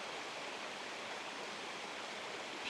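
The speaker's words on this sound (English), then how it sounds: "Look at that waterfall up there." Water pours steadily down a spring-fed waterfall into a creek, a dense, even rush of white-noise flow that holds constant from start to finish with no voices over it.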